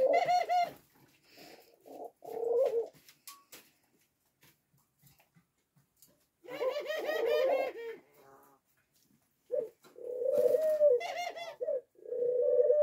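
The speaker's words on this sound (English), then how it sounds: "He's trying to make her a happy nest, and she's cooing over it" A pair of ringneck doves at their nest give soft repeated coos in several bursts separated by quiet gaps, close and clear with no talking.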